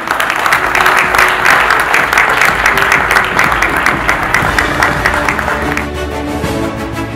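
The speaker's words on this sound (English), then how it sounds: "Please, with your applause, I welcome on stage Mr. Kabir Bedi." Warm audience applause welcomes a guest onto the stage at a women's awards event. A thick, continuous wash of clapping thins and softens over the final second.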